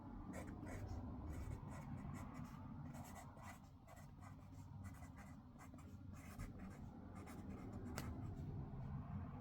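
A paintbrush loaded with paint writes words along the side of a painting, making steady, close, scratchy brushing strokes over a low background hum.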